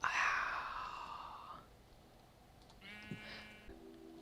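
A sheep in the Minecraft video game lets out a loud, drawn-out bleat at the start, followed by quieter, fainter bleating sounds later.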